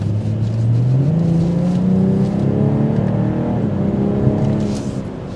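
A 2023 BMW M440i Gran Coupe accelerating on a road test drive, its engine note climbing steadily through the revs and then easing off, heard close from inside the car with no talking.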